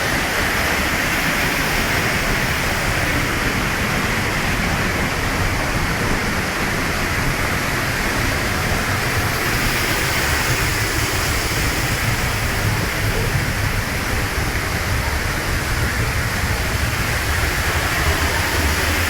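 The Düden waterfall in Antalya roars with a steady, dense, loud rush of falling water that holds unbroken from start to finish, with no voices heard.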